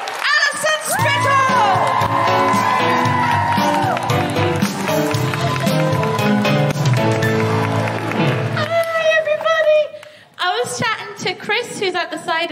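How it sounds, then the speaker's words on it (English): A live comedy audience at a feminist podcast show breaks into loud sustained applause, cheering and whoops, with music playing under it and a brief dip before the clapping and cheers resume. "keep that applause going for the guilty feminist favourite"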